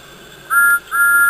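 Two short, shrill steam locomotive whistle toots, the second slightly longer, sounding high and clear over a quiet background.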